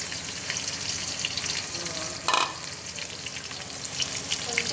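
Chopped onion and green chili fry in hot oil with a dense, steady sizzle and crackle, heard close, with a brief louder burst of sputtering midway and light stirring under it.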